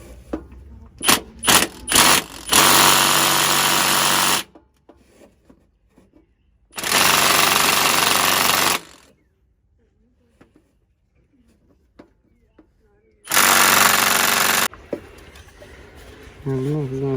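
Impact wrench working a starter bolt on a Freightliner Cascadia DD15, several short rattling bursts followed by two longer sustained hammering runs separated by quiet gaps, loud and close.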